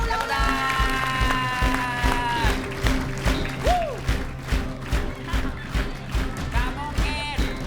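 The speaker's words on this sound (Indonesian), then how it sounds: "Tepuk tangan" Audience applause and cheering for the second-place winner at a lively TV comedy show, continuous crowd clapping under music, with voices and thumps mixed in.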